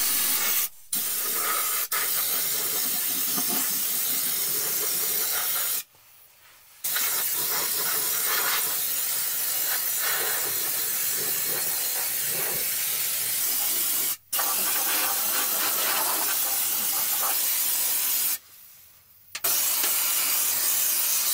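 An aerosol can sprays Fluid Film lanolin undercoating under a car, long loud hissing bursts close to the mic, broken by a few short pauses where the spray stops before starting again.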